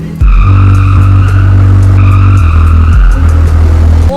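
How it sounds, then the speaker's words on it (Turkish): Tyres skid and squeal as a car drifts in Euro Truck Simulator 2, with a loud steady engine drone under sustained screeching that shifts pitch partway through; no talking. "Ula ula ula Arap drifte döndük gene."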